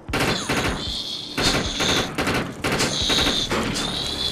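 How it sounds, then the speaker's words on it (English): Rapid assault rifle bursts from the video game Defiance rattle out in several loud volleys separated by short pauses, with sharp metallic ringing between them. "I can take these guys out with my assault rifle."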